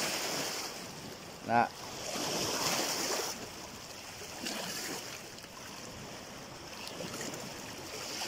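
Waves lap softly on a lake shore at Marawi, a faint, continuous wash of water and wind, broken once by a brief spoken syllable.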